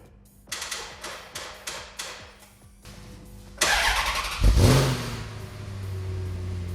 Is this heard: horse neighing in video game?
no